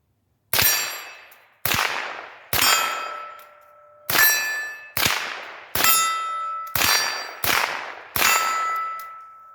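Rifle shots ring out against steel gong targets, including a 6-inch gong, at a distant range: eight loud, separate clangs spaced about a second apart, each leaving a long metallic ring that fades away.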